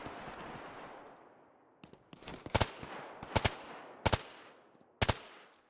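Gunfire rings out in the PC game DayZ on Hashima Island: four short, loud bursts of two or three rapid shots each, spaced a second or so apart against a faint ambient backdrop.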